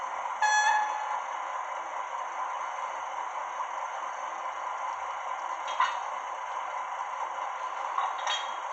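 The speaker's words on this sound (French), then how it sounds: "un klaxon." The sound module on a 1:32 scale Steiner KÖF II model locomotive gives a short tonal horn blast near the start. A steady engine hum runs underneath, with a few faint clicks later on.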